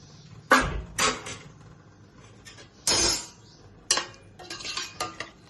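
Metal lid of an AMC cookware pot being opened and handled over cooled mango mutton curry, giving several sharp clanks and clatters of metal against metal with short pauses between, close by and fairly loud.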